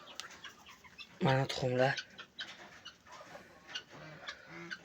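Chickens cluck loudly close by in a couple of quick bursts, then softer scattered clucks follow, with a voice talking over them.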